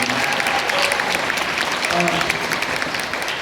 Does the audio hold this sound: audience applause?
yes